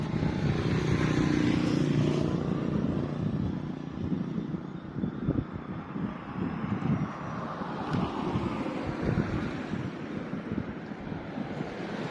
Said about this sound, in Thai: ใบไม้ก็พัดอยู่นะครับ นี่นะครับ พิ้วไหวไปตามแรงลมเลยนะครับ